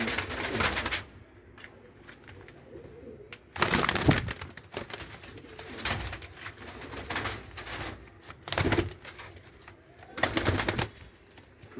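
Teddy, Ferozpuri and Kasuri pigeons in Faisalabad give repeated soft, throaty coos in a steady rhythm, close and alone with no talk.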